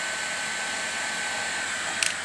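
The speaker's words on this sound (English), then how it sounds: "I'll just put the hairdryer on that." Steady, even whoosh of a hair dryer blowing continuously at close range, drying red slip on a pottery piece, with a brief faint clatter near the end.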